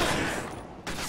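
Rapid gunfire in a first-person shooter game, a dense continuous burst of shots that is loud and close, with no speech over it.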